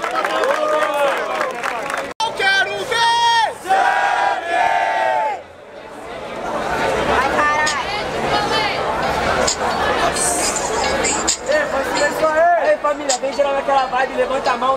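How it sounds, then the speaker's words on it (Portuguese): A large crowd at a freestyle rap battle in Barueri, São Paulo, cheers and shouts loudly and continuously, voices rising in excited bursts with whistles cutting through the din. "Barulho para as rimas do Yongui"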